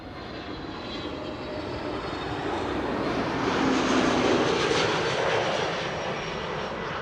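A wide-body airliner arriving at Amsterdam Schiphol Airport makes a steady, loud roar that swells to a peak near the middle and then holds, with no voices.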